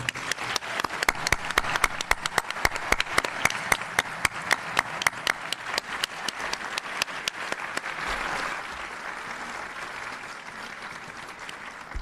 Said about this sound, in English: join with me in giving him a round of applause to thank Bob